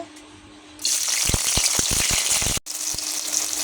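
Four green chillies, three large onions and two big garlic cloves hit hot soybean oil with a sudden loud sizzle, crackling and popping steadily close by, with a brief dip before the frying resumes.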